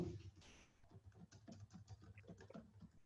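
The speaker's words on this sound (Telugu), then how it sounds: "ఇప్పుడు నేను ఇక్కడ సబ్జెక్ట్ అని టైప్ చేసి చూడండి టెక్స్ట్ ని టైప్ చేస్తున్నాను" Computer keyboard keys clatter in quick, uneven taps close by, a soft, steady run of typing with no voices.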